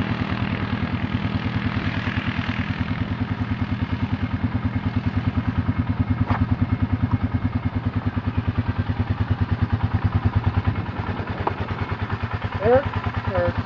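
An ATV engine runs hard in four-wheel drive and high gear, a steady throbbing rumble with a regular pulse throughout, close and fairly loud, with a brief voice near the end.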